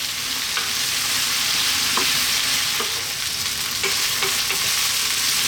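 Pumpkin frying in a pan with garlic and ginger, a steady close sizzle with occasional soft stirring scrapes throughout, no voices.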